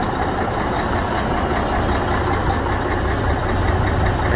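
A 1985 Mack RS690LS concrete truck sits idling, its diesel engine giving a loud, steady, even low rumble close by, with no talk over it.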